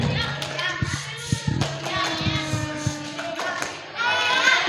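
Kindergarten and Quran-school children in a classroom perform the 'tepuk diam' hand-clap routine, with a few sharp claps and thumps, then chatter, an adult voice and children's voices over the clapping.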